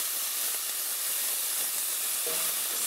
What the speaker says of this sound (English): half a teaspoon of garlic paste. Saute it all together, stir it.